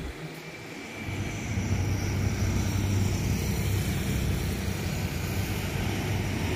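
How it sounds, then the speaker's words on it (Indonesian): A Yamaha R25 motorcycle passes on a street; its engine roar rises sharply after a quiet start, then stays loud and rumbling as it goes by. "R25 lewat"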